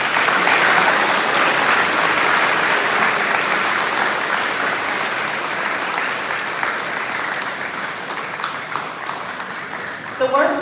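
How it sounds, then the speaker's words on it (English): Sustained applause from a large audience at a live event in Sherman, West Virginia, dense steady clapping filling the whole stretch and tapering slightly near the end. "Let's all give them another big round of applause."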